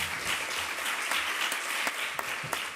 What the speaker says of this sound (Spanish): Y creo que se merece un aplauso por ese doble esfuerzo, investigar y estar aquí.